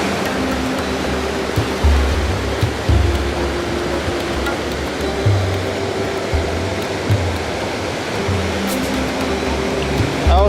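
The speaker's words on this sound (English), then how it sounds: "The waves are very high, they are behind the waves." Loud, continuous roar of ocean surf with waves breaking and rumbling in low surges, heavy wind-like hiss throughout.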